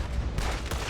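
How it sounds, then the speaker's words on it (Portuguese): Gunfire in Red Dead Online: two quick, sharp bursts of shots in under a second, close and punchy. "Se jogar e levantar atirando."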